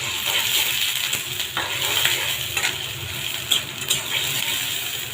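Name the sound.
stirring chopped onions in mustard oil in a pan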